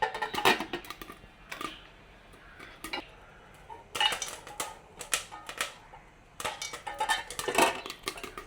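Corn kernels pop inside a covered pot over a low flame, sharp light ticks and clicks coming in dense clusters with quieter gaps between, close and clear with no talking.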